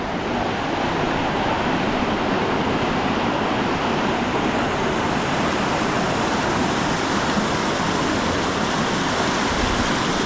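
Strong river current rushing in a dense, continuous roar of turbulent water, loud and close, steady throughout with no voices over it.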